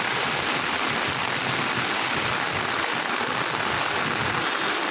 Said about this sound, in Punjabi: ਆ ਦੇਖੋ ਪਾਣੀ ਪੂਰਾ ਤੇਜ਼ ਚੱਲ ਰਿਹਾ